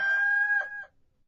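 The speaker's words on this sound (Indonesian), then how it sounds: "dan ketika itu berkokoklah ayam" Rooster crowing once, a clear, tonal, fairly close call that rises and then trails off, with silence around it.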